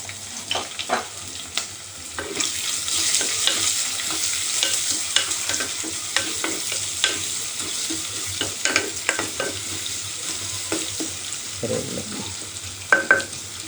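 Small shallots fry in hot oil with a steady sizzle while a spoon scrapes and stirs the pan in repeated sharp clicks and knocks, close up and unaccompanied by speech.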